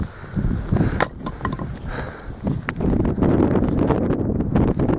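Gusty wind on Mount Etna buffets the microphone, a low rumbling roar that swells louder toward the end, with faint rustling and no talking.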